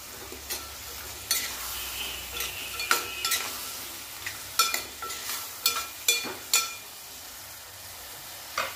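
A spoonful of sugar is stirred into a tamarind-pulp mixture in a pan. A spoon scrapes and clinks in a string of short, irregular strokes over a soft background sizzle, close by, with no talking.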